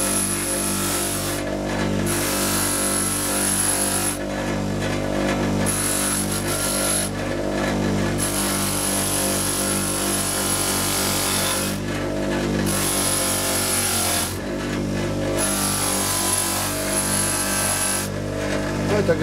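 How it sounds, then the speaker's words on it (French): A wire brush scrubs a brake part clean on a 2010 Chevrolet Aveo, a loud, sustained rasping that comes in repeated strokes separated by short pauses, with a steady mechanical hum underneath. "on va le passer à la brosse métallique, histoire de le rendre propre"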